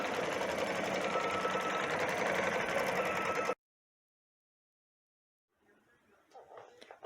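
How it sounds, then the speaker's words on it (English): A Stellaire embroidery sewing machine stitching a quilt corner, a dense, fast mechanical whir at close range for about three and a half seconds that stops abruptly, followed by silence and then faint handling noises. "And then we're going to sew this corner, and then I'll show you how to connect them after you rehoop it."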